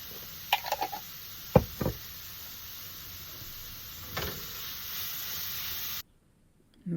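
Baked beans sizzle steadily in a hot pan while tomato paste is stirred in, with a few sharp knocks and scrapes of the utensil against the pan early on before the sound cuts off near the end.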